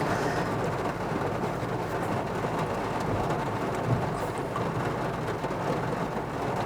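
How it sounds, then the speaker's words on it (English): Steady rain drums on the roof and windshield of an iCaur V23 car, a dense continuous patter with a low rumble underneath, fairly close and even throughout. "And it's raining and I'm figuring out the wiper situation"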